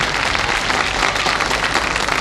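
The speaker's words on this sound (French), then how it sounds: "Qu'on applaudit Michel Simon" Studio audience applauding a guest, the actor Michel Simon, on a French television variety show; dense, steady clapping fills the hall evenly throughout without a break and with no voices over it.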